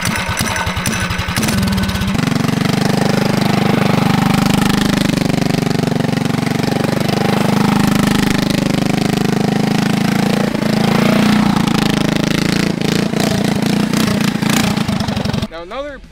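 A mini trike's small engine runs steadily while being ridden, a loud buzzing drone with throttle rising and falling, close to the microphone, as someone talks over it; it cuts off sharply at the end.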